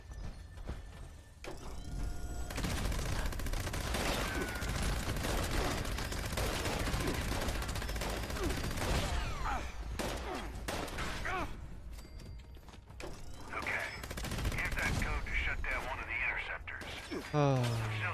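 Gunfire in Fallout 76 pops repeatedly across a long stretch of busy game sound, with clanking mechanisms and scattered speech mixed in, fairly close and dense throughout.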